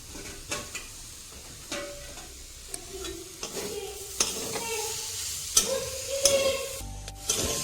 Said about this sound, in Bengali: ধনে পাতা দেওয়ার পর একটু নেড়ে চেড়ে নেবো